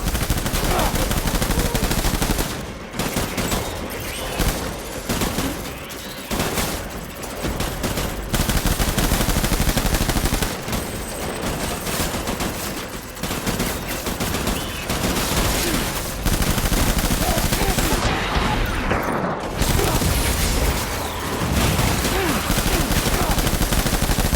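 Sustained gunfire and bursts of automatic shots from the video game Death Stranding, loud and dense throughout, with brief lulls and a pause near the end before firing resumes.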